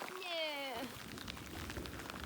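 Steady rain falls in the Carpathian mountains with a soft, even hiss of drops, opening with a brief falling tonal sound before the rain continues alone.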